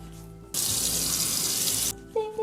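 A bathroom tap gushes into a sink for rinsing off a face wash, a close, loud steady stream lasting a little over a second before shutting off, with faint sounds around it.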